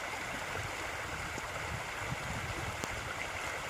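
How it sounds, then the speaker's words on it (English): Small rapids and a little waterfall on a twisting stream rush steadily, a continuous broadband wash with occasional brief splashes, moderately loud and close, no voices. "Just wanted to take a peek at the little rapids and kind of almost a mini waterfall forming over here."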